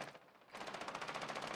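Automatic gunfire in Rainbow Six Siege, a rapid, steady burst of shots after a brief quieter moment, faint overall and heard without talk.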